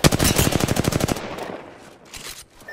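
Automatic gunfire in Apex Legends: a loud, rapid burst of evenly spaced shots lasting about a second, then dropping to quieter residual noise and a few faint later sounds.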